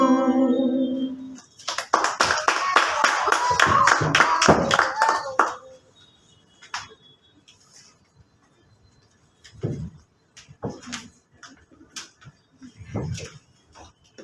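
Hands clap along in rhythm with a song during a Sunday church service, a short run of steady claps after singing, then scattered quieter claps and faint voices.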